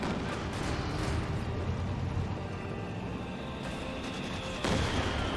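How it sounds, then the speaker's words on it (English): Rolling battlefield gunfire and muffled blasts from a 120mm mortar high-explosive barrage in the Company of Heroes 2 strategy game, a steady dense rumble of shots and booms with a sharper burst near the end. "And we've got a high explosive barrage, time to use barrage from the 120mm mortar."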